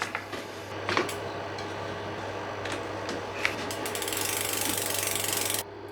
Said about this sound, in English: Now we'll put the wheel back in.